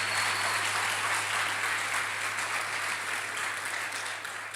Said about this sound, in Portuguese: vocês podiam aplaudir a Jesus por isso